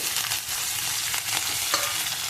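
Green chillies frying in oil with golden-brown potatoes for sabudana khichdi, a steady close sizzle with a few stirring scrapes and no talking.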